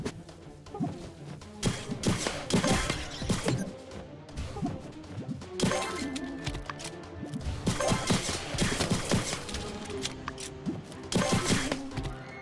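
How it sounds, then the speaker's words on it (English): Assault rifle fire in My Time at Sandrock, loud sharp cracks and thumps in irregular bursts over game music and combat clatter. "We can use the assault rifle, it's fine."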